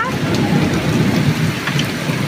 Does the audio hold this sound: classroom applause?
no